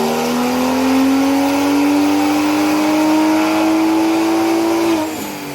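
Loud, sustained rev of a BMW N55 turbocharged inline-six on a dyno, pitch climbing steadily in a smooth pull through the rev range for about five seconds before abruptly cutting off and dropping away.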